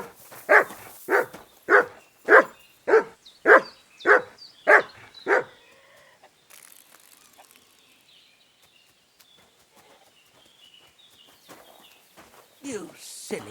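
A dog in the game Kingdom Come Deliverance II barks nine times in a quick, steady run, loud and close. Quieter ambient noise follows, and a voice speaks near the end.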